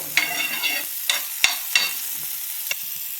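Tomatoes sizzle in a pan while a spoon stirs them, giving a steady close hiss broken by several sharp scraping clicks.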